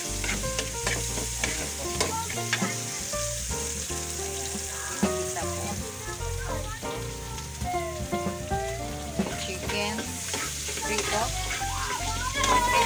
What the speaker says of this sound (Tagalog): Ito po ay nagluluto ng pansit sa aking alaga.